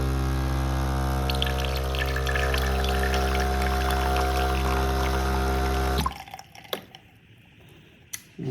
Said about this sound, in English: So we'll pour this out.